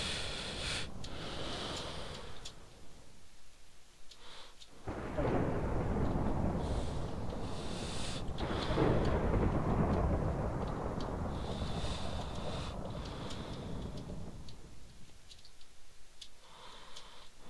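Thunder rumbles through a Minecraft storm, a broad deep roll swelling midway and lingering at steady loudness, with scattered clicks and ticks from the game on top and no talking.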